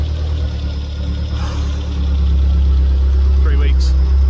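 A Badger 5 race engine idles steadily after its first start, a loud, deep continuous rumble with a slight rise in level partway through.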